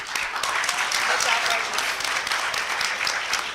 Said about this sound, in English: give me a round of applause if you thought Berbice won